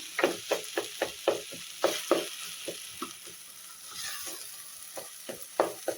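Tomatoes sautéing in oil for a black chickpea curry: a soft sizzle under regular, fairly quiet spatula scrapes and taps repeating about every quarter second, with a brief lull midway.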